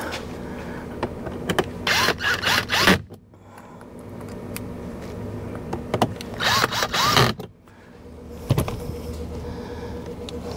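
Tightening screws while fitting a blower motor under the dash of a Mazda 3 produces bursts of ratcheting, scraping mechanical noise in a few short groups, separated by quiet gaps, close up and fairly loud.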